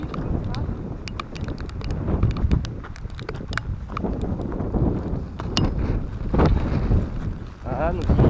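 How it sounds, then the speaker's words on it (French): Steady heavy rain driven by gusting wind, a dense broadband wash with wind buffeting the microphone and occasional sharp patters close by. "Là, c'est une vraie pluie comme ça."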